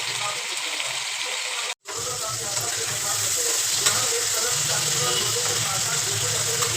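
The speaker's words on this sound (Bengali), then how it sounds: "মাছটা ভাজা বসিয়েছি" Fish frying in a pan at home, a steady loud sizzle filling nearly the whole stretch, broken once by a brief silence, with faint voices and stirring underneath.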